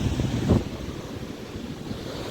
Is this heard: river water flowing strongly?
yes